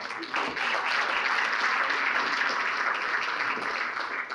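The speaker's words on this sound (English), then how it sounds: "Let's have a round of applause for them" Audience applause at a morning community business gathering, a dense, steady burst of many hands clapping that swells quickly and holds evenly for several seconds before tapering slightly.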